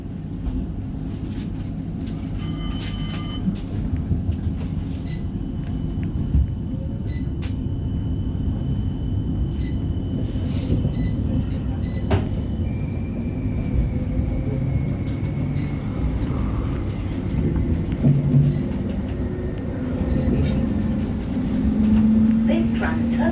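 West Midlands Metro tram pulling away from Winson Green stop, a low steady motor hum and rumble building with faint electric whine and clunks, under a recorded announcement voice.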